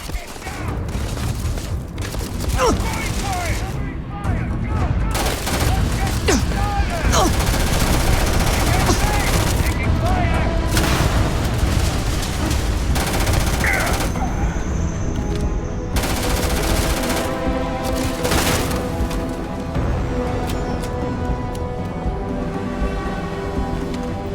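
Sustained gunfire from a firefight in the sci-fi video game Starfield, dense bursts of automatic shots and booms crackling loudly and continuously, with shouted voices over the shooting.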